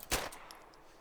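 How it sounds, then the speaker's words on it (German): One small, quiet shot from a pink Derringer pistol in DayZ Standalone, a brief snappy pop followed by faint metallic clinks. "Kilchi, ich wollte jetzt heute mit meiner pinken Derringer mal einen Schuss abgeben."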